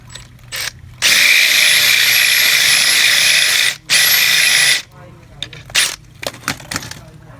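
Power drill with a countersink bit cuts a screw hole for a floating shelf in two loud, sustained whining runs of about three seconds and one second. Brief clicks and quieter handling sounds follow.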